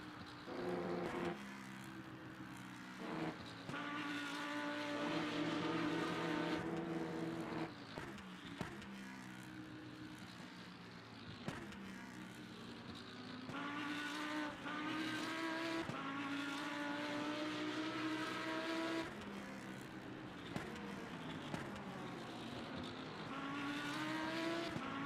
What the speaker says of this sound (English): I'm hearing a lot of cars.